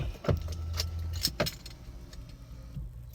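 Car keys jangle in a few sharp metallic bursts close by, followed by a faint click as they go into the ignition of a modified 2016 Toyota Tundra CrewMax Platinum 5.7L V8; no one speaks.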